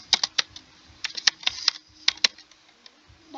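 Quick, close keystrokes on a computer keyboard while entering numbers and names into a spreadsheet, coming in short bursts of crisp clicks with brief pauses, no talking.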